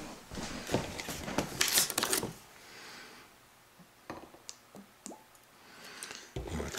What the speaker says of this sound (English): And then we'll add some cheap vodka.